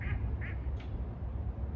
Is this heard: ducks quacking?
yes